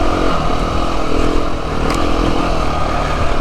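A dirt bike on an off-road trail roars loud and close, its engine droning steadily with slight rises and dips in revs and no talk.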